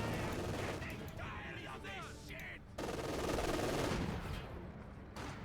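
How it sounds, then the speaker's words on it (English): Machine gun fire in the World War II strategy game Company of Heroes 2, rapid sustained bursts and overlapping gunfire forming a dense fusillade, with a voice speaking over the battle noise. "And the center machine gun busy there."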